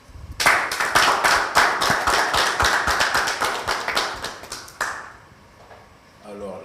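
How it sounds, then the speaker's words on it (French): Applause from a talk show audience in Benin, brisk crisp clapping that starts abruptly, carries on loud and fairly close for about four seconds, then cuts off into quiet room sound. "On applaudit."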